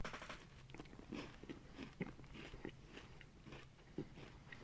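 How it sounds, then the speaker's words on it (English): Close-up biting and crunchy chewing of a raisin tiffin cake, with repeated crisp crunches at an uneven rhythm and soft mouth sounds between them, loud and intimate. "Let me hear that chew."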